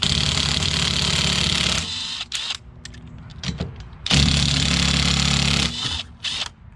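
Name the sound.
Ridgid impact wrench removing car wheel lug nuts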